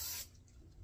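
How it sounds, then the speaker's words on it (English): A short, soft hiss of butter cooking spray onto a pan lasts a fraction of a second, then cuts off to quiet room tone. "And you're gonna take some butter spray. You're gonna spray your pan."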